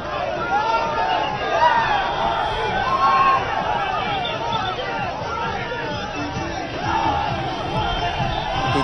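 Dense roadside crowd lining both sides of the street in Bhubaneswar for Modi's road show, a steady loud babble of many voices and cheering with no pauses.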